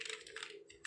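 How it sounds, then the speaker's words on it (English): Typing on a computer keyboard: a quick run of soft, quiet key clicks, close and without talking. "I'm typing it as an abbreviation form"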